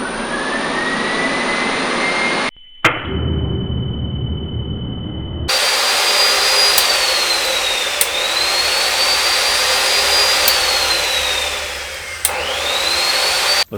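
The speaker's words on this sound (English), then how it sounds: "let's try turning on the saw while it's under a 900 watt load" A power saw driven by a 3500 W pure sine inverter carrying a 900 watt load, a loud steady motor whine that starts abruptly, cuts out briefly, then runs on with pitch dips under load and a few sharp clicks.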